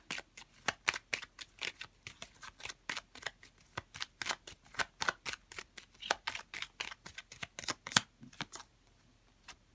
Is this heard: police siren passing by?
no